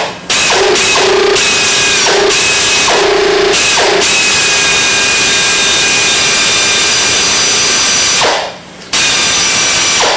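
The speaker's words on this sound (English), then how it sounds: "sanding this C&L bushing, which I have captured with an AN4-15A bolt and some washers" A power sander whines loudly and steadily as it works a C&L bushing held on an AN4-15A bolt with washers, briefly cutting in and out at first, then running continuously with a short dip near the end.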